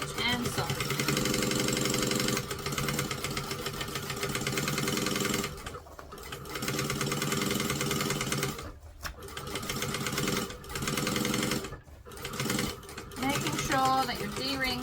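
A domestic sewing machine runs in bursts while stitching and back stitching slightly stretchy maroon fabric, its motor whirring steadily with brief pauses between passes; a voice talks in places under the stitching.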